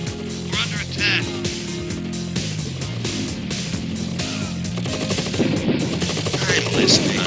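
Gunfire in a KKND2: Krossfire real-time strategy battle, repeated machine-gun bursts and shots over a droning synth music bed, with game voices speaking.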